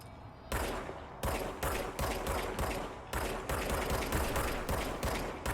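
Rapid gunfire from a weapon in the video game Control: dense volleys of sharp, loud shots in quick succession, pausing briefly between bursts, steady and close without talk.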